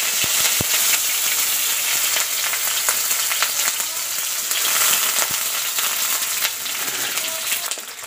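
Sliced onions frying for beresta in hot mustard oil: a steady, loud, close sizzle and crackle with occasional sharp pops and faint stirring, continuous throughout with no talking.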